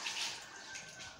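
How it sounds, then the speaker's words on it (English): Water pours steadily into a cooking pot in a kitchen, a continuous close splashing rush with no talking over it. "I'm just adding the water to the pot now"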